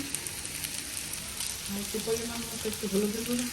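Chili frying in a pan while lunch cooks in a village home, a steady close hiss and sizzle with brief voice-like tones near the end.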